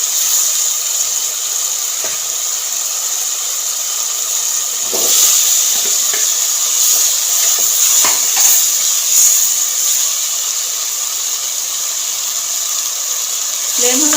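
Vegetables for achari baingan are added to hot ghee over a medium flame and sizzle in a steady, loud hiss that swells briefly midway and runs throughout with no break.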